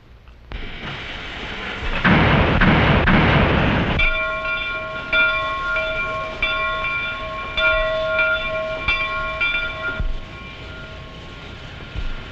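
A locomotive train runs close by, a loud rumbling burst giving way to steady rolling clatter with sustained horn-like tones over the rail noise, no voices.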